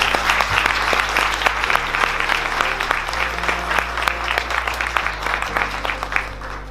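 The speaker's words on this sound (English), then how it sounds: "Can we get another round of applause for the Black Student Union and everybody who put this event together?" Crowd applause rings out for the Black Student Union at a flag-raising event, steady clapping from many hands with a low hum underneath, lasting throughout at moderate loudness.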